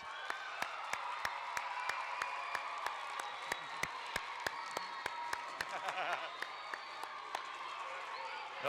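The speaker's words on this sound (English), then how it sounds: "Please raise your hand, and let's give them a round of applause." Audience applause at a school Battle of the Books event for 4th and 5th graders, scattered clapping from a crowd in a large room, with loud sharp regular claps up front, voices and a few whoops mixed in.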